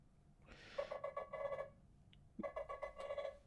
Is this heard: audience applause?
no